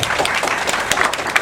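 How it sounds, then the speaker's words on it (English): An audience applauds an attendee with a burst of steady clapping from many hands, close and lively throughout, with a faint voice mixed in. "Everybody give her a round of applause."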